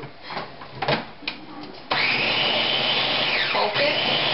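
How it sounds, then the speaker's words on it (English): A Ninja blender pureeing softened butternut squash and vegetables for spicy soup, starting with a few clunks and short bursts before a loud, steady motor whir that dips briefly in pitch as the contents churn. "transfer it into a blender or my handy dandy Ninja"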